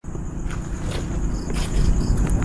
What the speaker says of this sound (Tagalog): dahan-dahan na kami naglalakad din dito